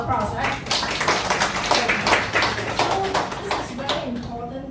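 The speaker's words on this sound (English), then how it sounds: "give yourself a round of applause" Members of a study group clapping for themselves, a brisk patter of hand claps over several seconds, close, with voices mixed in among the applause.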